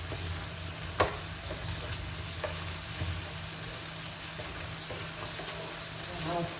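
Shrimp stir-fry in red curry paste with stink beans and basil sizzles steadily in a hot pan, the continuous frying hiss broken by a few scraping stirs, fairly close with no talking.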